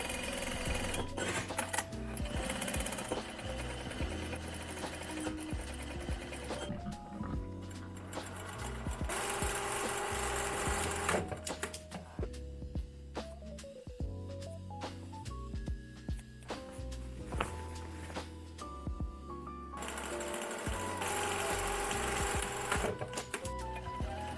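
A sewing machine stitches jeans with thick polyester-core thread, running in fast, steady mechanical bursts with brief pauses and changes of pace throughout, close and alone with no talk.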